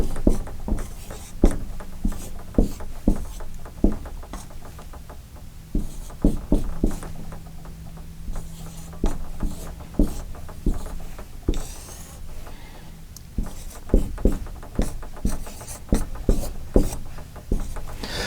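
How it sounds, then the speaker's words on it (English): Notes are written out by hand, likely with a marker on a board, as a steady series of close tapping strokes and scratches with brief pauses, loud and near, with no talking. "I'm going to write it out again."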